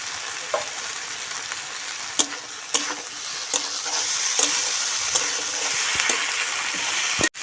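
Ash gourd pieces sizzle in a pan while being stirred. A bright, continuous frying hiss runs throughout, broken by repeated scraping clacks of a spatula against the pan at irregular intervals, and a sharp knock closes the clip. No one speaks.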